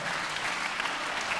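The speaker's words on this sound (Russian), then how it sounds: "Ваш аплодисмент!" A concert hall audience applauds steadily, a dense wash of many hands clapping close and even throughout.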